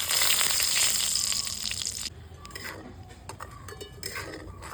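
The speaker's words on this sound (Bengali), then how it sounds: "এই তেলে লবঙ্গ দারচিনি ফোড়ন দিলাম।" Whole cloves and cinnamon sputter and sizzle in hot oil in a pan for egg curry, loud and dense at first, then dropping to a softer crackle with scattered pops and light utensil clinks.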